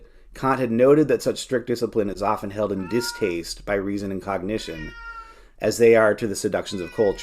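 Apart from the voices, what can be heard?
cat meowing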